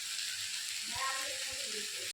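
Whole spices and dried red chillies temper in hot oil as a five-spice seasoning for khichuri, a steady close sizzle and hiss that cuts off abruptly at the end, while someone speaks briefly over it.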